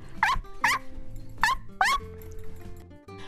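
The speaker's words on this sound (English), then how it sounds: "That was like an angry bark." Four sharp, harsh bark-like calls from an animal, spaced across the first two seconds, loud and close with a rough, angry edge, then quieter background.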